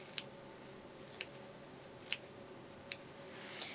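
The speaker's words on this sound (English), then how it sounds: "But you just pull it down and then just start doing smaller snips across it." Scissors snipping the hair of a wig, a handful of short, crisp cuts spaced irregularly over a quiet room background, close and fairly soft.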